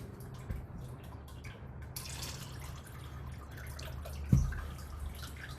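Regular bottled water pours onto tea in a steady, fairly quiet trickle that splashes on, closing with a short dull knock near the end.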